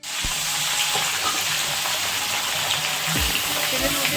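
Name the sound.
chicken frying in oil with spices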